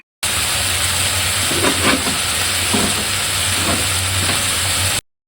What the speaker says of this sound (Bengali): গরম তেলে দিয়ে হালকা একটু লবণ দিয়ে ভালো করে ভাজা ভাজা করে নিব